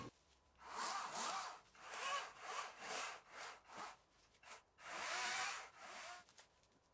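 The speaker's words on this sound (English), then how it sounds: "cut through this fairly large balsam fir log effectively, if not quickly" A battery-powered electric saw cuts through a fairly large balsam fir log, giving a steady run of rasping, surging cutting bursts with short dips between them, faint and heard alone.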